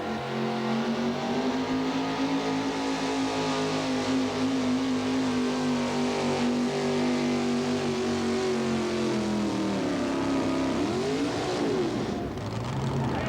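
A four-wheel drive pulling truck's engine revs hard and steadily through a run at a 1988–89 Red Man series truck pull, its loud, sustained roar holding pitch before dipping and surging near the end.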